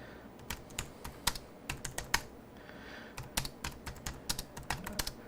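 Rapid clicking of keys on a computer keyboard during a 3D-printed Auduino synth enclosure build: uneven bursts of close, crisp keystrokes with short pauses between them, and no voices.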